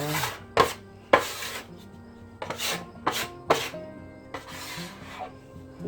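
Cinnamon roll dough is rolled, scraped and kneaded on a work surface, giving sharp scraping rasps and soft thuds in an irregular rhythm, close and fairly loud, with no talking.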